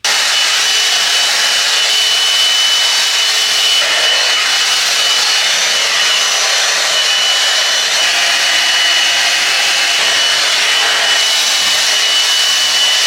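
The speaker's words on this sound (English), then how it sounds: "We're gonna time it and see how long it takes to blow dry my hair at this length." A handheld hair dryer roars steadily while blow-drying long hair, a loud, constant close-up hiss of airflow with no pauses and no voices.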